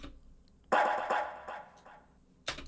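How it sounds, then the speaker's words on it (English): One dog barks nearby: several strong woofs come close together, then a gap and one more sharp bark, all clear and alone with nothing else around them. "That is my dog barking."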